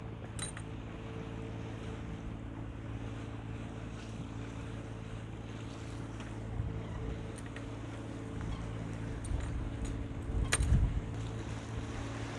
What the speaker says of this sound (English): I don't know whether you can hear me over the engine noise or not